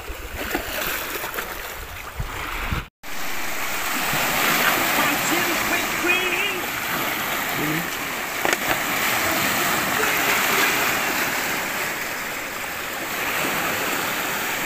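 Strong waves at sea crash and churn in a loud, steady rush of water that continues almost without a break, with a brief dropout near the start.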